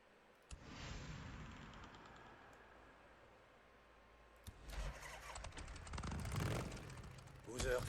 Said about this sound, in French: Ok, on enfourche notre moto.